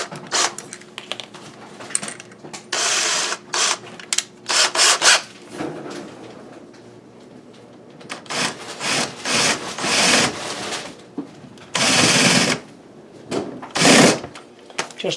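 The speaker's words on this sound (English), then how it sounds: "you can just use a drill bit to just put a little bit of a groove in here to countersink the head" Drill bit countersinking a screw hole in kitchen cabinet wood, a series of short rasping grinding bursts repeated on and off, fairly close and loud.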